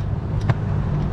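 A BMW engine idles at low pitch in a steady, even rumble, close and continuous, with a brief faint click or tick near the middle.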